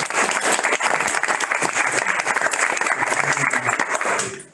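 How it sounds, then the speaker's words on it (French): A conference audience gives loud, dense applause that runs steadily and then cuts off abruptly at the very end. "Je pense qu'on peut quand même vous applaudir"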